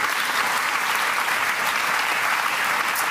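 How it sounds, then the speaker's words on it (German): Studio audience applause at the close of the SWR talk show Nachtcafé, a full, even roar of clapping sustained throughout, with no voices. "Ja, jetzt kann der Applaus kommen."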